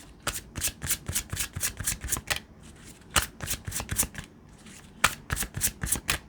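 Romance Angel oracle cards being shuffled by hand in rapid riffling bursts, crisp repeated flicks grouped in short runs with brief pauses between, close and clear with no talking.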